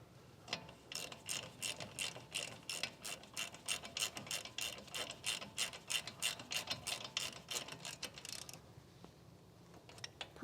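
A ratchet tightens the bolts on the front brakes of a 2016 Chevrolet Suburban LT. Quick, close clicking strokes repeat in a steady run of bursts for about eight seconds, then stop.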